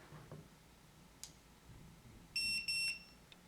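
An electronic keypad deadbolt gives two short, shrill beeps in quick succession, clear and close, after a faint click over a quiet room.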